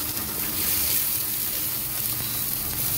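Garlic, onion and tomato sauté in hot oil for a bottle gourd dish, giving a loud, continuous close-up sizzle with no break from start to finish.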